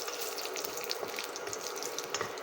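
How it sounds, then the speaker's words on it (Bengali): Bay leaf, a dried red chilli and nigella seeds tempering in hot oil left from frying lentil dumplings, a steady close-up crackling sizzle with no voices. "ডালের বড়ি ভাজা তেলে এবার ফোড়ন দিয়ে দিচ্ছি"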